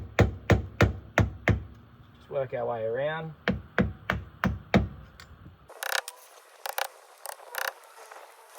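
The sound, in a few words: hammer and flat screwdriver prying grease cap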